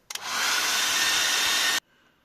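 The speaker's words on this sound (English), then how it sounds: "I'll use a hairdryer." A hair dryer switches on with a brief sputter, then blows a steady, loud broadband whoosh for under two seconds before cutting off abruptly.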